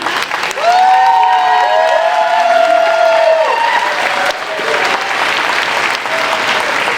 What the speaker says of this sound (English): And a round of applause for Mrs. Knuth.